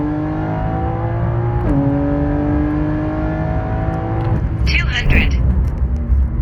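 A tuned BMW M3 G80 with a Stage 2 calibration and valve-controlled exhaust accelerating hard from 100 to 200 km/h, engine note climbing steadily through gears with a brief dip at each shift, loud and close inside the cabin, with a voice speaking over it.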